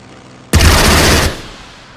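Burst of RAF aircraft machine-gun strafing in the WWII strategy game Strategic Mind, Burma campaign: a single loud, dense rattling volley lasting under a second, then fading into a lingering rumble.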